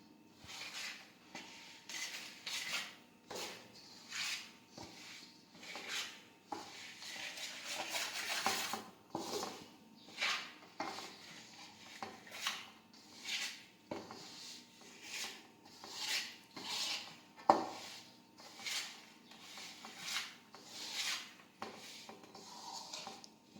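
Churma for ladoo being mixed by hand in a vessel, a steady run of rubbing, scraping strokes in an uneven rhythm, close and fairly loud throughout, with no talking.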